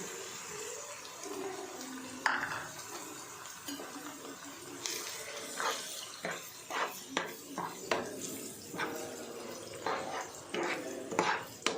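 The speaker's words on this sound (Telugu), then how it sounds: "కప్పులో తీసుకొని వేగుతున్న ఆనియన్స్ దాంట్లో వేసుకొని కలుపుకోవాలి" Beaten eggs being stirred into frying onions in a pan, with repeated clinks and scrapes of a utensil against the metal over a soft background hiss, close and fairly quiet.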